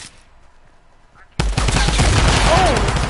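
Following a near-silent lull, loud, dense gunfire from a Fortnite match bursts in suddenly and keeps rattling nonstop, with a brief voice mixed in.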